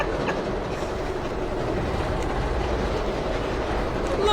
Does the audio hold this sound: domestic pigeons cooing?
no